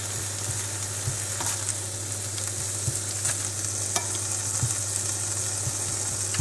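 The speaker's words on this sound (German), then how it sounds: "Ihr seht, der Speck ist schön am Brutzeln." Bacon fries in a pan, a steady close sizzle and crackle with occasional stirring and scraping clicks, and a low constant hum beneath, no talking.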